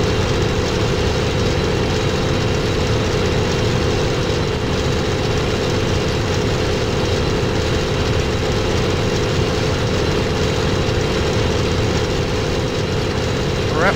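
Aircraft engine in a flight combat video game, a constant loud, steady drone with an even low rumble and no change in pitch throughout.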